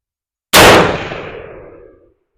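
A single loud rifle shot from a .223/5.56 Anderson AR strikes a steel barrel target, with a sharp crack and a clang that rings and decays over about a second and a half, outdoors with no talk.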